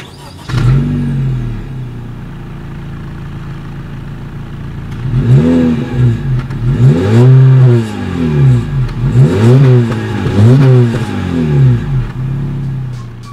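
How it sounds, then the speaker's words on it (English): A 2019 Honda Civic Sedan engine idles, then revs up repeatedly through its center exhaust in several loud, rising-and-falling bursts, close by, with no talking. "here is that exhaust clip"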